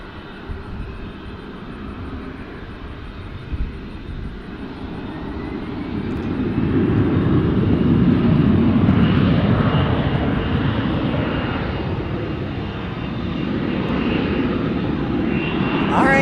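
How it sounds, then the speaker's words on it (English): An Airbus A321 takes off, its jet engine roar swelling from a distant rumble to a loud sustained peak midway and then easing slightly while staying strong. "A321 taking off here, our Airbus aircraft"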